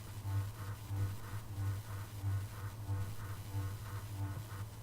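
A deep synth bass made in the Massive synthesizer with a cicada wavetable pulses in a steady repeating rhythm, with a buzzy, wobbling tone layered above the low throb.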